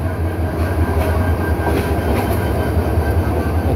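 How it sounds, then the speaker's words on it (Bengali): A shunting locomotive, one of the 2900 or 3000 series units, rumbles past Dhaka's Kamalapur railway station in a steady, fairly close low drone with a faint clatter of wheels. "shunting locomotive,"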